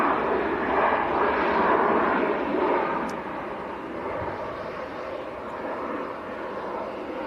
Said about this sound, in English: There goes Finnair to Helsinki, Airbus A321.